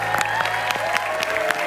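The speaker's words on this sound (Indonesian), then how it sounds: "Boleh berikan tepuk tangan buat usaha yang nekat dari seorang Mani." A studio audience at the Indonesian dating show Take Me Out Indonesia applauds loudly and fairly close, with a few sharp individual claps standing out from the steady crowd clapping.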